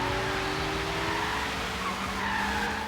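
Tyres of a Ford Falcon skid and squeal in Forza Horizon 3 as the car loses traction, a steady loud screech with sliding pitch lines over continuous engine roar throughout.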